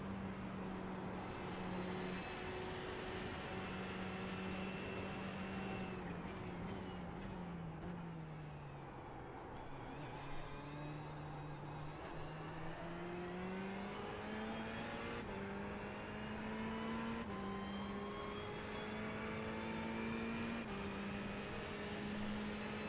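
A Ferrari GT3 race car engine in the iRacing game at the 10 Hours of Suzuka, a faint continuous drone that dips and climbs through shifts and corners for over twenty seconds, with no talking.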